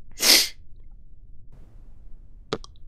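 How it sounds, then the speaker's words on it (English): A single loud, close sneeze bursts out at the start. A faint click and quiet room noise follow. "I'll mute the mic next time I have to sneeze"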